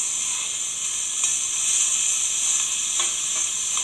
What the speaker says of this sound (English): then we will begin the chopping process